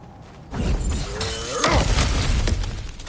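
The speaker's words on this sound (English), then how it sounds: "Ah, back to smashing through things for fun and profit." Cracked ground bursts apart in God of War Ragnarok, a heavy crunching shatter with rumbling debris and a creaking, grinding edge that swells after a quiet start and lingers for a couple of seconds.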